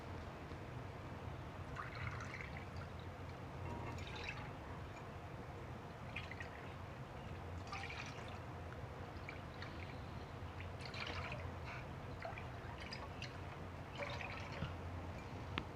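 Water is poured with sugar into a cup for rasgulla syrup, a faint, quiet trickle and a few drips running steadily through a long stretch with no voices.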